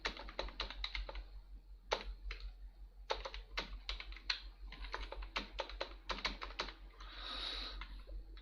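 Names being typed into an MS Word document on a computer keyboard, producing a steady stream of close, crisp key clacks in quick irregular bursts, with no talking.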